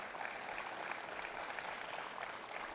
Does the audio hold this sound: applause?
yes